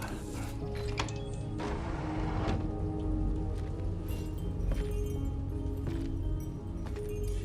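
Rain in the video game Death Stranding 2 on PS5 Pro patters steadily across the whole stretch, with scattered sharper drop taps and clicks over a continuous hiss.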